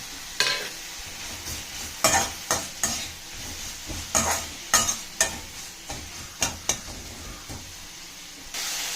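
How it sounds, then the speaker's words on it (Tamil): Tomatoes, pepper and dried chillies sauté in a pan for onion chutney with a steady sizzle, broken by a series of sharp scraping stirs from a spoon at irregular intervals, close-up and without speech. "தக்காளி நல்லா வதங்கட்டும் ஃப்ரெண்ட்ஸ், அப்புறம் சட்னி டேஸ்ட்டாக இருக்கும்"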